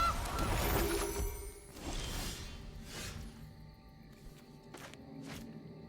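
A goose honk effect from Magic: The Gathering Arena plays as a Goose card enters, in several short honking bursts layered over busy game sounds, swooshes and music.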